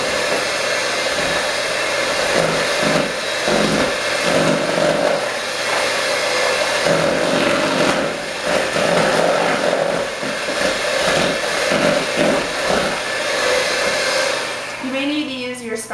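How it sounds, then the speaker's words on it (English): An electric hand mixer beats butter with brown sugar and vanilla in a bowl, a steady loud whirring drone running almost continuously with slight pitch wobbles as the beaters move. "And we're going to beat this together until it's all incorporated evenly."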